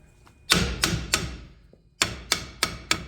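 A hammer strikes a brake bolt on a 2000 Toyota Tundra in a series of sharp metallic smacks, three close together, a pause, then four more in quick succession, crisp and near.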